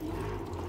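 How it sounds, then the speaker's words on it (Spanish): Water pours and splashes in a steady, continuous stream, close by, with no voices. "allá está cayendo agua allá"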